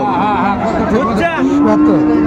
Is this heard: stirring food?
no